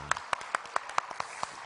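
Scattered, uneven hand claps from a small church congregation during a Wednesday worship service, about eight sharp claps spaced irregularly, fairly near and moderately loud, with no voices over them.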